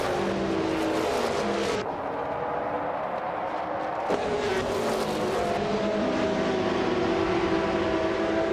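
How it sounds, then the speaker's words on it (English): A classic 1988 Oldsmobile Cutlass SCA race car in the GTO class roars away from pole position in a racing game, its engine whining and climbing through gear changes, loud and continuous, with faint tire squeal. "Jazz is starting on pole position, driving a classic 1988 Oldsmobile Cutlass SCA in the GTO class."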